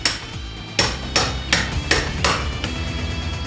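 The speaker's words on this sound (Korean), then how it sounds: "그리고 벽을 뚫는 작업이 시작된다" A hammer pounds a large hole through a house wall for a stovepipe during hand-built stove installation, about six loud, close, sharp blows at an irregular, steady pace with no talking.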